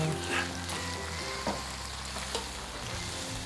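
Spaghetti sauce sizzles in a pan on reduced heat while it is stirred, with a constant close crackle and a few soft scraping strokes, no talk.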